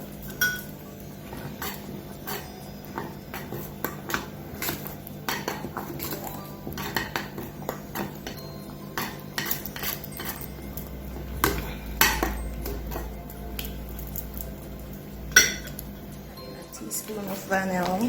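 Metal spoon clinking and scraping against a pot while plantain porridge, Jamaican style, is stirred; steady, close, repeated taps and clinks over a low kitchen background hum.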